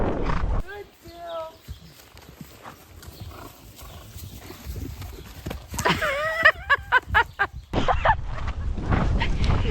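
An off-the-track Thoroughbred horse snorts and whinnies close by, with shuffling hooves and movement; a person speaks at points in between.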